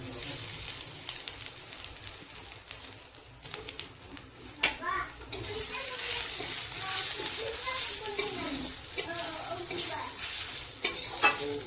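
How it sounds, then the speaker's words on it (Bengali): Ground bitter gourd paste fries in a pan with a continuous close sizzle and stirring scrapes that build louder in the second half, with faint bird chirps in the background. "তো এইভাবে আমি ভেজে নেব করলাগুলো"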